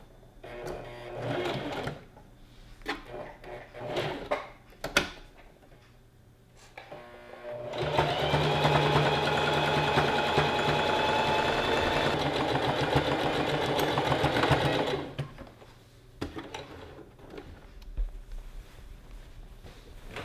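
A sewing machine stitches down gathers on a maxi dress, running in one steady, close whirring burst of about seven seconds, framed by brief starts, handling clicks and quieter pauses before and after.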